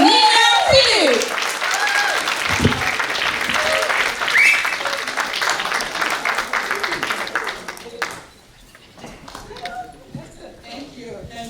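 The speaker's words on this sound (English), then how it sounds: "I would like to hear that gushing sound of applause for our own Dr. Neena Philip" An audience at a nurses' association Nurses Day celebration in New York applauds loudly and continuously for about eight seconds, then the clapping fades out while someone speaks over it at the start and a voice follows at the end.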